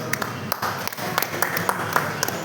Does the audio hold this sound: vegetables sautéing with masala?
no